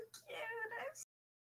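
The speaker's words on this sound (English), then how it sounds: "Little guy suddenly starts meowing." A cat gives a single short, drawn-out meow, close and fairly clear in a quiet room, followed by silence.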